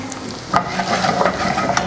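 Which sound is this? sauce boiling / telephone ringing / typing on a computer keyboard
sauce boiling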